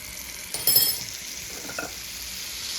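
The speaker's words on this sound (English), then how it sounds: "I'm gonna fry that garlic a little bit with the olive oil" Garlic dropped into hot olive oil in a pan: a sudden loud burst of sizzling that settles into a steady, close frying hiss, with a faint utensil clink partway through and no talking.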